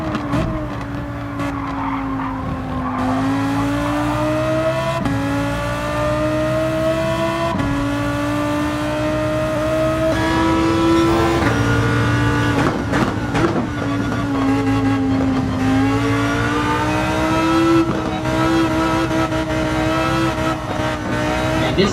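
A Lamborghini Huracan GT3 Evo races at Autopolis in Gran Turismo 7, its engine howling and climbing through repeated upshifts in rising sweeps, with tire squeal and skidding between, loud and continuous.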